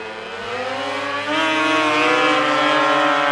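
Vintage power toboggans, including a 1973 Polaris and a 1975 Yamaha, roaring off the start of a championship race: loud, rising high-pitched two-stroke engine whine from several machines together, building steadily.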